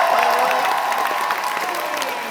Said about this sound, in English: Can we give a big round of applause to Sound Guy?